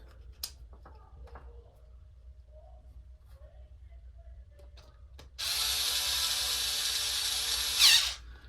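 Cordless power driver runs one steady, loud burst lasting under three seconds as it drives a screw into an RC beadlock wheel, following a quieter stretch of faint handling clicks.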